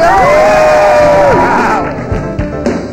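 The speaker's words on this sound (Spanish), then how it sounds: "un elenco increíble que aplaudan ustedes mismos" A TV studio audience and cast cheer and whoop loudly at the close of a comedy show, with shouting voices rising over applause, then the cheering fades as scattered clapping continues.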